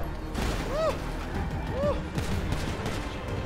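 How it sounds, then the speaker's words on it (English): Gunfire in GTA 5 cracks out as a dense stream of shots and bursts, with a voice talking loudly over the steady shooting. "They're shooting. They're shooting."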